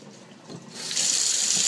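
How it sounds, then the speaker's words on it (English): Water drains from a sink after the plug is pulled, where makeup brushes were soaking: a soft gurgling rush that swells into a steady hiss, close by and alone. "I'm just going to pull the plug, let all that water drain"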